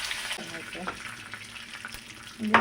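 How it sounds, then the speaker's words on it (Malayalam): Soft, steady sizzling of masala frying in a little oil, with a clink near the end. "കുറച്ച് എണ്ണ വെച്ചിട്ട് നമുക്കത് പൊരിച്ചെടുക്കാം"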